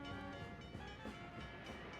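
A passenger train rolls into the city on a bitter cold night, its steady rumble and rolling clatter filling the whole stretch at an even, loud level with no pause.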